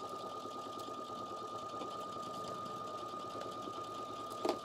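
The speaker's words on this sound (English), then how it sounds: "sewing up my center back seam using 5/8 of an inch seam allowance and a regular length stitch" A sewing machine runs a regular-length stitch along the center back seam of a blazer, a steady fast whirring hum that holds evenly throughout, close and moderately quiet, ending with a small clunk.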